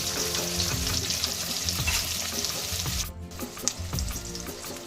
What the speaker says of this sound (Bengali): এই পিঠটাও আমি একটু সময় ধরে ভেজে নেব।